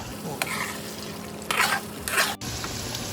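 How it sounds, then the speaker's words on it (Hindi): Meatballs (kofta) frying in a pan, a steady sizzle with brief bursts of stirring and scraping, close up with no talk. "अब ये कोफ्ते फ्राई करते हैं थोड़ी देर इसमें"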